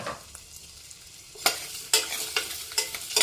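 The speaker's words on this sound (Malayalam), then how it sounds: "ഇനി ഇതിലേക്ക് നമ്മൾ കട്ട് ചെയ്ത് വെച്ചിരിക്കുന്ന ഉരുളക്കിഴങ്ങിൻ്റെ കഷ്ണങ്ങൾ ഇട്ട് കൊടുക്കാം." Pieces of potato are tossed into hot coconut oil and stirred, giving a close sizzle with repeated sharp scraping and clattering strokes in the pan, no voices.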